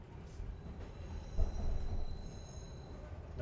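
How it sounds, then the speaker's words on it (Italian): A train in a video game slows down, a low rumble of wheels and carriages with a brief louder thump midway, steady and moderately close, with faint background tones. "Il treno sta rallentando."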